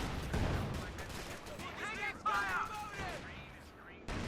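Artillery shells and gunfire boom and crackle in a Company of Heroes 2 match, with mortar and Calliope rocket barrages, several blasts and whistling projectiles mixed under a commentator's steady talk.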